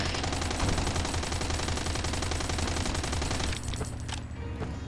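Sustained rapid gunfire from a video game firefight aimed at a car, loud and continuous bursts throughout before thinning out near the end.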